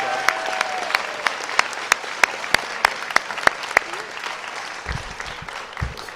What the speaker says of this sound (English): Let's first give thanks and a big round of applause for Mrs. Callahan for being our Mistress of Ceremonies.